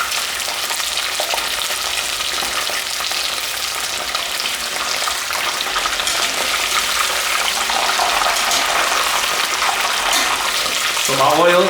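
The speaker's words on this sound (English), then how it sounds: "I'm just going to lay a few shrimps at a time in the oil. Give a good deep fry." Salt and pepper prawns deep frying a few at a time in hot oil at medium heat, a loud, constant, dense sizzle that runs unbroken, with a voice briefly heard near the end.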